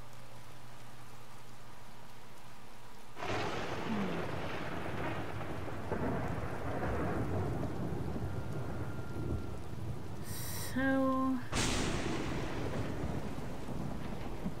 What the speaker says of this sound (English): seemed like that lightning strike was awfully close.